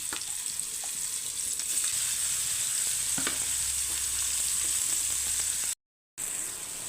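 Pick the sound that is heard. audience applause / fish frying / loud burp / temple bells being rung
fish frying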